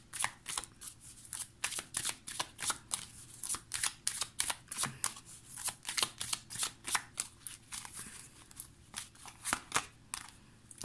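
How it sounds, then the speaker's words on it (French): Tarot cards being shuffled and drawn: a quick, steady run of crisp papery riffles and snaps, close and fairly quiet, continuing without pause and with no talking. "On va prendre 2 cartes."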